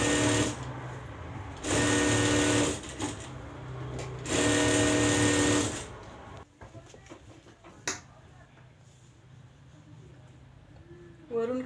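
Sewing machine stitching fabric and lining together around a boat-neck garment, with two long bursts of fast, even whirring stitches separated by short pauses, then quieter handling and a voice speaking.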